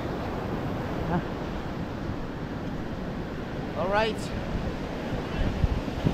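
Big sea waves roll and wash in a constant, noisy roar with heavy wind buffeting the microphone, while a voice speaks briefly partway through.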